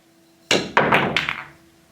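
A pool cue scooping under the cue ball in a miscue, heard as a few sharp close knocks of cue and ball against the table in quick succession, then a short fading rattle.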